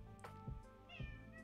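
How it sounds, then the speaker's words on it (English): A cat meows twice close by, two short soft calls a half second apart over a quiet indoor hum. "Meow. Meow."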